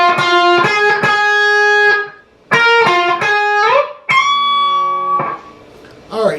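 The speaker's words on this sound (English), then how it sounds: "Okay, the second sax solo will sound like this." Electric guitar through distortion and effects plays the second saxophone solo from a song, with loud picked phrases, bends and slides separated by short gaps.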